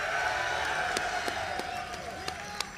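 A live event crowd cheers and applauds, a steady loud wash of voices and clapping with sharp individual claps and whoops standing out, then easing slightly toward the end.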